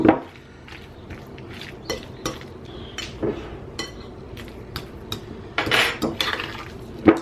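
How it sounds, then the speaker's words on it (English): A fork scraping and clinking against a bowl while stirring and mashing chicken buffalo ranch deviled egg filling: irregular, close taps and scrapes with short pauses, and no talking. "you see how I'm kind of taking my fork and just stirring and mashing, stirring and mashing"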